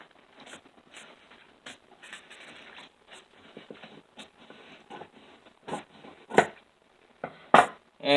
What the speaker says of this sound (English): cut this paper right here in the straightest line possible with these huge freaking scissors of mine